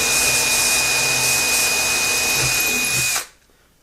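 Held by hand rather than in a press, a power drill runs a bit through the bridge holes of a Martin D-35 guitar, whining loud and steady up close before spinning down and stopping near the end.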